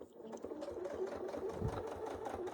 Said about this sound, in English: you're sewing in until the foot touches